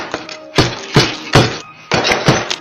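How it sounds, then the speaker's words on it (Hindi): A shrimp-cracking hammer slammed onto a table in a movie scene: a series of about six sharp, loud thuds and bangs in uneven rhythm, each ringing briefly before the next. "झींगा तोड़ने वाला हथौड़ा उठाया और मेज पर दे मारा।"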